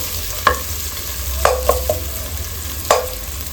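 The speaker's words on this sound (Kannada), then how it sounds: "ಈರುಳ್ಳಿ ಈ ಹದದಲ್ಲಿ ಫ್ರೈ ಆಗುವಾಗ ಒಂದು 4 ಹಸಿರು ಮೆಣಸಿನಕಾಯಿನ ಹಾಕ್ಕೊಂಡು ಫ್ರೈ ಮಾಡ್ಕೊಳ್ಳೋಣ." Onions fry in a pan for a spicy pork and potato curry, with a continuous low sizzle broken by several sharp scrapes and knocks of a spatula stirring against the pan, close and without talk.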